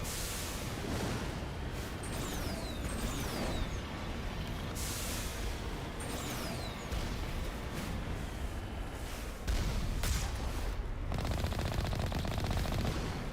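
Sustained automatic gunfire in a Mass Effect battle against Geth forces, including a heavy turret, a dense continuous rattle of shots with brief zipping weapon sounds, loud and unbroken throughout.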